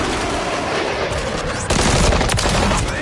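Rapid, dense automatic gunfire in the game Modern Warfare III Zombies, a loud continuous rattling burst that grows heavier halfway through, with no speech.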